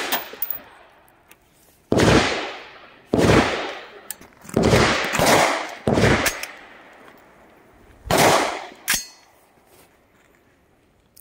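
A brand new AR-15 rifle fires about seven loud, sharp shots at uneven intervals outdoors, each followed by a clanging ring and a brief echoing decay, with quiet gaps between.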